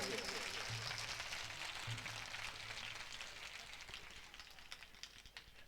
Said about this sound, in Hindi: एक बार जोरदार तालियां मेरे भाइयों के लिए